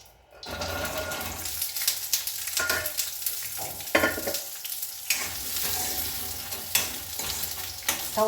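Small amla gooseberries hit hot oil in a pan, a sudden loud sizzle that keeps crackling and spitting steadily, with occasional louder pops and scrapes near the microphone.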